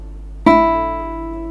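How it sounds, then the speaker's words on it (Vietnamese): The high E first string of a guitar plucked once, a bright sharp attack that rings on and slowly decays, clear and close with no talking, played as a tuning reference. "Còn đây là nốt mi của dây số 1."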